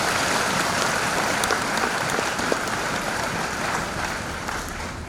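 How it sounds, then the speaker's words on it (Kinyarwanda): A congregation at a Pentecostal church ceremony honouring pastors gives sustained applause, a dense, even wash of clapping that holds steady throughout with no voices over it. "Mumfashe tubikomere amashyi menshi cyane."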